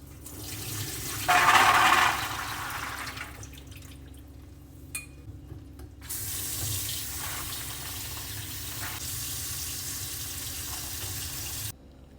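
Soaked chickpeas rinsed under a running kitchen tap, water gushing and splashing in bursts with pauses and changing flow, close and loud, no talking.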